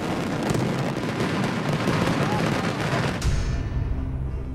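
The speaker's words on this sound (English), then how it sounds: "Daytime pyro is an assault on the ears." Daytime pyrotechnic fireworks going off as a dense, loud barrage of rapid bangs and crackles, then cutting off abruptly and leaving a low rumble and fading ring.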